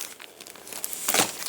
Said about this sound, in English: So I'll just use scissors for now and pop it open